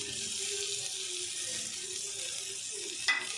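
Fresh coconut and poppy seed masala frying in a pan for an Andhra-style spicy chicken curry, a steady close sizzle with low bubbling underneath and a sharp utensil clink at the end.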